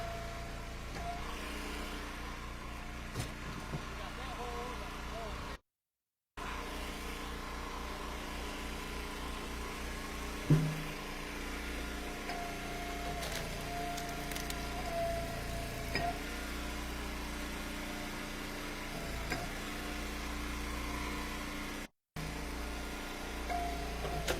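A tractor engine runs at a steady, low idle-like hum that continues throughout, fairly faint, with brief dropouts and a few small knocks.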